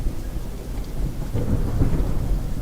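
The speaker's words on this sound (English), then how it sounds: "There was lots of lightning and thunder and rain." Thunderstorm sound effect with a steady wash of rain and deep rolling thunder that swells louder toward the end, with no voices.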